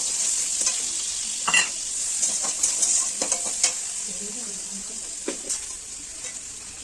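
Chopped onions frying in hot oil with whole cloves and cardamom, a steady soft sizzle broken by occasional scraping stirs of a utensil against the pan.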